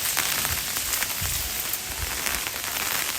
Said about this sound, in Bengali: এত পরিমাণে ঝড় বৃষ্টি দেখো একেবারে মেঘ যেন সেই মেঘ পুরো একদম আকাশ ফুটো হয়ে গেছে